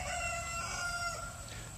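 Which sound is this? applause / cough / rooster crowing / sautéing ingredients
rooster crowing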